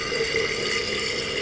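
Water rushes steadily into a toilet tank as it refills after a float arm and ball adjustment, a constant close hiss with no pauses or talk.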